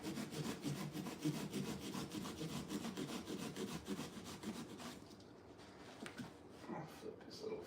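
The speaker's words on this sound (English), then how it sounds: "Using a Sawzall wood blade on a pumpkin works pretty darn well." A Sawzall fitted with a wood blade rasps through a pumpkin in rapid, rhythmic back-and-forth strokes, close and loud, with someone talking over the cutting; the sawing thins out near the end.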